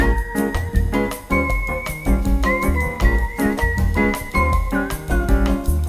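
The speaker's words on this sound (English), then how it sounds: "The melody is an interesting duality between the vibraphone and whistling." Music from The Sims 1 plays with a bright vibraphone and a whistled melody over a bossa nova rhythm section, steady and full throughout.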